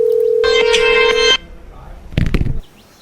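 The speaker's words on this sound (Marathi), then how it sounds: "विजयला फोन लावतो." A phone being called: a long steady dial tone overlapped by a run of bright beeping key tones, then quiet, then a short burst of ringing, all loud and close.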